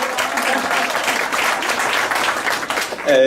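Audience applause at an international sailing awards ceremony in Szczecin, a dense, steady round of clapping from a large crowd filling the room, with a voice beginning to speak at the very end.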